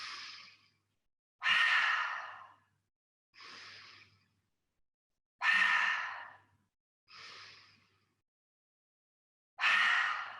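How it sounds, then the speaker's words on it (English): Three deep yoga breaths, each an audible inhale through the nose followed by a louder, breathy exhale through the mouth, evenly spaced and close, with no talking. "finish with 3 breaths in through the nose and then out through the mouth"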